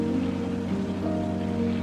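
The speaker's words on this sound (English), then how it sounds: "In the rain, you mean?" Rain patters steadily in the video game South of the Circle, a soft, even wash beneath a louder low droning hum, with no voices.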